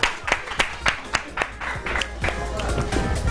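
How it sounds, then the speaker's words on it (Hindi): Bursts of clapping from a studio audience during an Iftar entertainment broadcast, rising in rhythmic waves at first and then blending into a steadier wash of applause. "सारी तालियां माशाल्लाह"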